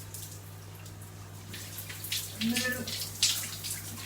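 Water running and splashing while hair is wetted during a curly hair wash, an uneven hiss and splatter under a low steady hum, with a person speaking briefly over it.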